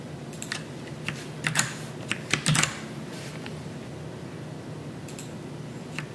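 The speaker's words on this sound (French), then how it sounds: "On va faire un CTRL-S." Computer keyboard keys pressed for a Ctrl+S save shortcut while animating in Photoshop: a handful of sharp, close clicks, scattered and clustered around the middle, then a quiet pause and a couple more taps.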